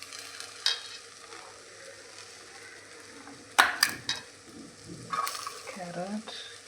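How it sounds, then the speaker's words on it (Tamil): Brinjal, beans and carrot being lightly sautéed in a pan, with a low steady sizzle under a few sharper clatters and scrapes of a spoon against the pan. "காய்கறிகளையும் போட்டு லேசாக வதக்கிக்கணும்"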